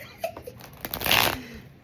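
A deck of playing cards is shuffled up close in one short, clumsy riffle, a quick papery flutter that rises and stops within a second.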